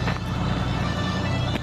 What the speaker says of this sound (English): Truck coming in.